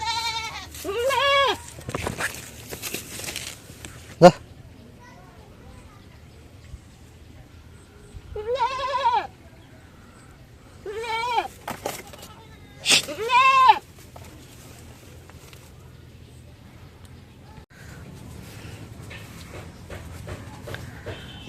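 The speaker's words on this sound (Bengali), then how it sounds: "তো এই জায়গায় অনেক ছাগল অনেক ছাগল আছে এই জায়গায় ঘাস খাইতে দেওয়া হয়" Goats grazing on grass bleat in separate wavering cries, a few clustered near the start and more spaced out later, with long quiet gaps in between.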